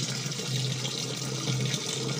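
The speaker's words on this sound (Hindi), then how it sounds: "तो मैं फ़िल्टर लगा के कैसे पानी भर रही हूँ।" Water pours through a filter into an air cooler's tank, a steady, close, hissing rush that stays even throughout, with no voices.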